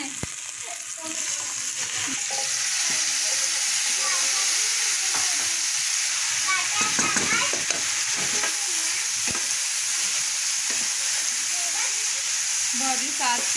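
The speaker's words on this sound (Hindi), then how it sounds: "भाभी साथ साथ प्याज फ्राई कर रही हैं और साथ साथ भिंडी फ्राई कर रही हूँ" Onions and okra (bhindi) frying side by side in pans, a steady loud hissing sizzle with occasional stirring clatter, continuous and close, with a voice faintly in the background.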